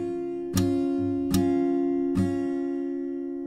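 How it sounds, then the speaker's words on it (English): Fingerstyle acoustic guitar, with the thumb slapping the sixth string while other strings ring: three sharp percussive slaps spaced evenly over a sustained droning chord, close and clear with no talking. "We just hit 6th string with a thumb, and it sounds like this."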